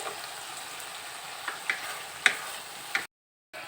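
Spice paste frying in oil in a pan for doi chicken kosha, a soft, steady sizzle with a few faint spatula taps and clicks, then a brief silence before the frying resumes.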